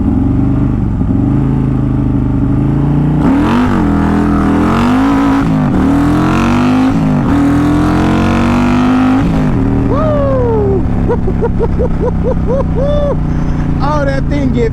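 A built CVO motorcycle accelerates hard and close, its engine note climbing in pitch through several gear changes, with brief dips between pulls before it winds up higher and faster.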